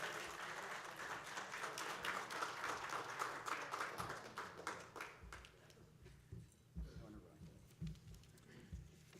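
Audience applause at an alumni evening event in New York, a dense burst of clapping that tapers off after about five seconds into scattered claps and room noise.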